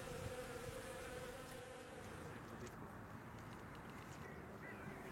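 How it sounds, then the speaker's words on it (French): Agitated honeybees at an opened hive give a dense, steady buzz that fills the whole stretch at moderate level, with no voices over it. "Les abeilles s'agitent, mais dès que la ruche est refermée,"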